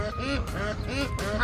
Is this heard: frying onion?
no